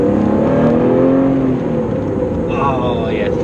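An Alfa Romeo GTV Cup car engine revs loudly and close by, its pitch climbing and falling with a rough, throaty exhaust note.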